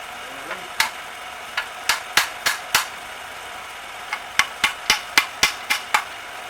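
Sharp metallic hammer blows ring out in two uneven bursts, several strikes each, on the seat of a 1951 Ford truck, close by with a faint background hum.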